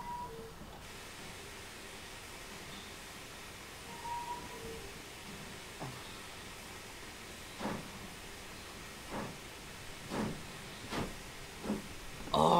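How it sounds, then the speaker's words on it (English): Ex L&YR coaches hauled by a steam locomotive chuffing at a distance, a steady hiss carrying a series of soft, spaced exhaust beats that grow closer and louder toward the end. "Oh, I love the chuffing."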